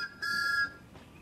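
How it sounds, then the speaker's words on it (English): A cartoon steam engine's whistle, Thomas the Tank Engine, gives one clear sustained toot of about half a second, fairly faint and heard alone. "That's Thomas's whistle. All steam engines have whistles."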